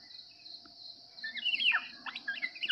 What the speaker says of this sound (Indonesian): kita pakai mikat masteran Kapodang asli ya